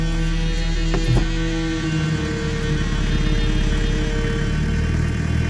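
A car engine idles steadily on a rural road, a low continuous rumble with a faint vibrating hum that holds throughout at close range, with no talk over it.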